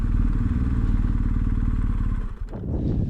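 A BMW 1250GS motorcycle idles steadily and loud on a mountain pass, its engine rumble dipping with a brief clatter and thud near the end as the bike is parked on a downhill slope.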